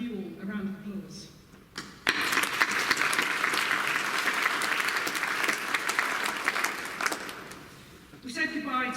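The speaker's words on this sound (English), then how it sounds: "I would now like to give you all a round of applause." School speech day audience giving a round of applause in a hall, a steady burst of many hands clapping for several seconds, framed by brief talk before and after.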